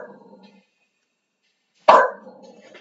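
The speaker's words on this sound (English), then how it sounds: "Sorry, my dog is barking." A pet dog named Simba lets out a single sharp, loud bark close by, trailing off into a short tail, after a faint voice and a stretch of near silence.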